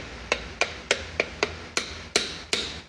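Light, sharp metallic hammer taps strike a rear main seal installation tool on a Chevy 350 or 383 engine about nine times in a steady rhythm, close up and crisp with no talking.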